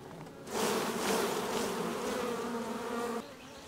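Honey bees buzz around an open hive frame of comb holding brood, larvae and eggs, a close, steady hum that swells in after half a second, holds for nearly three seconds, then drops back to a faint background drone.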